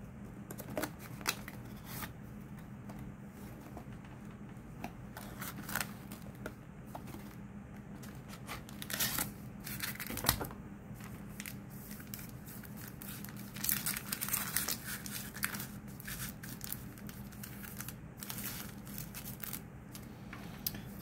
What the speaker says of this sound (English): Okay, so let's go ahead and get the box open.